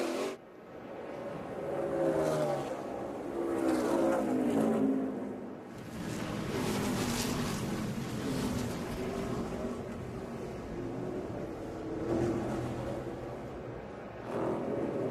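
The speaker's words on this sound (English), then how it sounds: "Over here in turn 4, got a car going through the runoff." NASCAR race cars practicing on The Loop 121 temporary street course, one running through the turn 4 runoff; a steady, fairly loud engine roar carries throughout with swelling passes and no talk.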